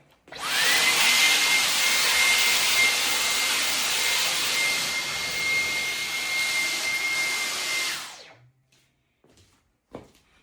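A Dyson V15 Detect cordless vacuum runs loud and steady, sucking bird seed and a feather off carpet with a constant high whine, then switches off and leaves near silence with a faint thump.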